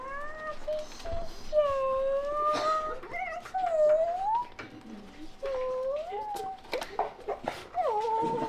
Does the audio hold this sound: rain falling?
no